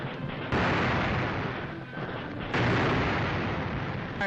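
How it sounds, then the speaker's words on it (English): Japanese artillery guns fire on Shanghai in 1938 as a heavy, continuous rumble of blasts on an old, muffled film track, with two sharp surges in loudness amid the sustained roar. "Japanese guns blast a final rain of fire and steel on Nanteo"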